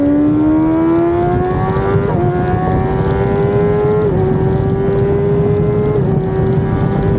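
A racing motorcycle at the Mandalika circuit powers hard out of the last corner. The engine screams loud and close, rising in pitch through the gears with three quick upshifts, and keeps a steady roar with no talk.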